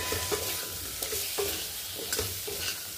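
Potato and tomato sautéing in a pan, a steady close sizzle with a spatula scraping and stirring in short regular strokes, no voices.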